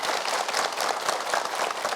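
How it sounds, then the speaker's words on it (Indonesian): Studio audience applause on an Indonesian religious talk show: a short, even burst of many hands clapping together, steady and moderately loud for two seconds, with no voices over it. "Boleh tepuk tangan ya"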